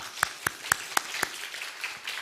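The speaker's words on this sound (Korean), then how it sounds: "우리 그래도 환영의 박수 한번" Sharp, evenly spaced claps ring out in a church youth worship service, about five loud strikes that then fade into softer, scattered clapping.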